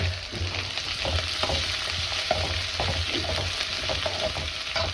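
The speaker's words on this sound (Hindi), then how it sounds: "प्याज भुना जा रहा है" Onions fry in hot oil with cumin, ginger and garlic, giving a steady close sizzle broken by soft stirring taps and scrapes throughout.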